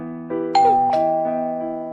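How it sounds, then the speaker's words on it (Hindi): A two-tone doorbell chime rings once, a bright ding-dong over a soft sustained musical tone. "ये तो डोरबेल की आवाज है"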